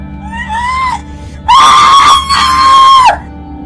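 A person screams loudly and shrilly up close, a short cry followed by a longer, more intense sustained scream that breaks briefly before continuing.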